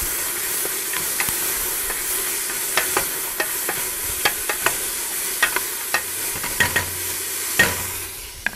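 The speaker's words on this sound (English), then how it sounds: "Give this a stir." Chicken pomodoro sizzles steadily in a pan, a constant frying hiss broken by repeated scraping clicks of a utensil stirring through it, close and fairly loud with no talking.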